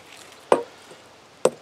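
A blade, not made for heavy chopping, strikes very hard wood twice, each blow a sharp, close, solid thunk, about a second apart, with quiet between.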